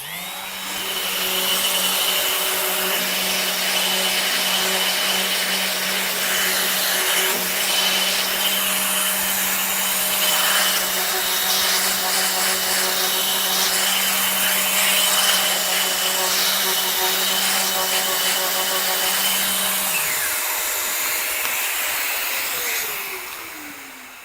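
A Festool ETS 125 compact sander runs steadily on wood with dust extraction attached, giving a constant whirring drone with a gritty sanding rasp. The motor then winds down near the end, and nobody speaks.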